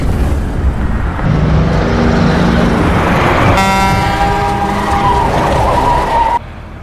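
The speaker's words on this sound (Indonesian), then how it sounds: "tiba-tiba muncul sebuah truk dengan kecepatan tinggi" A truck barrels down a road at high speed, a loud broadband rush of engine and tires building steadily, then a horn-like tonal blare cuts in over the noise before the sound drops away abruptly near the end.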